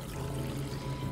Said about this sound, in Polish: Napełnię ci w ogóle od razu wodą.